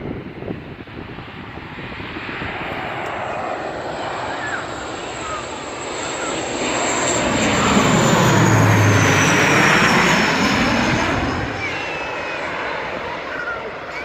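An aeroplane coming in to land at Birmingham airport roars loudly and steadily, swelling toward its closest point midway and easing off as it passes, with a distant whine above the broad engine noise.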